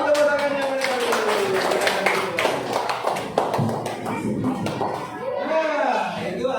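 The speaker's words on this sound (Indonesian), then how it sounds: "beri tepuk tangannya mereka dulu" A small group of people clapping their hands in a classroom, a few seconds of quick patter of applause mixed with talking and children's voices.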